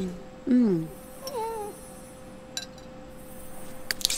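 A pet cat in The Sims 3 life-simulation game gives two short meows about a second apart, followed by faint clinks and quiet background game sounds.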